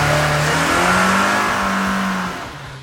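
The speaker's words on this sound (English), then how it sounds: "and working its way up to a high revving scream at top speeds." Porsche 944 engine revving high, a loud sustained engine tone rising and holding at high revs close by, fading somewhat near the end.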